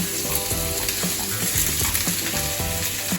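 Steady, loud sizzling of onions frying in hot oil, with occasional clinks and scraping of a utensil stirring the pan.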